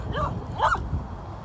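A small, older, aggressive dog outdoors in a scrub area gives two short, high yipping barks with whining whimpers between them, close and moderately loud over low background rumble.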